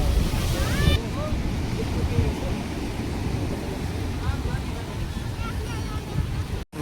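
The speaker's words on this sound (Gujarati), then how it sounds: "જો મોજો આવ્યો." Sea waves wash and break near fishing boats at Mangrol harbour, a steady rushing surf with wind buffeting the microphone throughout and a brief dropout near the end.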